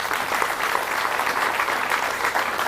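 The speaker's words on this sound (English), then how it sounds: "Big round of applause to all our volunteers." Crowd at a national bouldering championship finals gives volunteers a sustained round of applause, dense and even clapping throughout at moderate volume.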